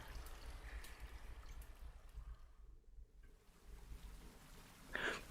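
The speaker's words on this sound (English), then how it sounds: "Underground waterfall noises, basically." An underground waterfall inside a huge cave chamber, heard as a faint, steady wash of pouring and trickling water that echoes distantly, with a brief brighter splash near the end.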